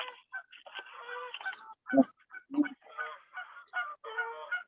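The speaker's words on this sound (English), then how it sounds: "Those are geese flying" Several geese flying overhead honk repeatedly in loud, overlapping calls, some harsh and nasal, forming a busy chorus that sounds fairly close.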